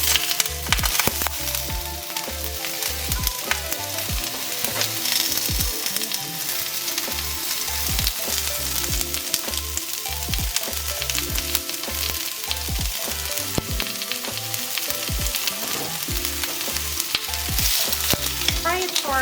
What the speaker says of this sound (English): you're gonna use the remaining oil in the same pan to fry your onion,